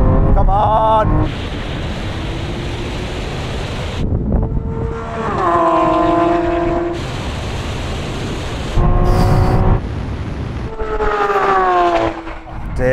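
A Lamborghini Aventador Ultimae and SVJ roll on from 50 mph in third gear, Corsa mode with manual shifting, their engines screaming upward in loud rising sweeps broken by short gearshift dips.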